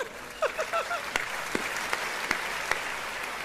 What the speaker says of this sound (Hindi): पीछे ताली अगर अच्छी बज जाए, क्योंकि आज कुमार भाई आए हैं